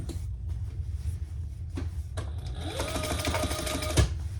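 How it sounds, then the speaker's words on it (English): A sewing machine stitching the sides of a fabric diaper backpack, running in short bursts with pauses and then a longer continuous whirring run, close and clear. "I'm going to stitch these sides, these lines as well"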